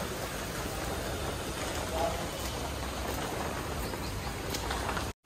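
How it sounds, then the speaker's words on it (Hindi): Heavy rain pours steadily and evenly across the whole stretch, a dense broadband wash close by, ending abruptly in silence at the very end. "पूरा खतरनाक बारिश हो गया यार।"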